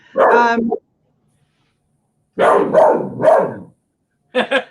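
A dog barks in two bursts, a single bark then a rapid run of three, followed by a short yip at the end, fairly close and loud with no talk over it.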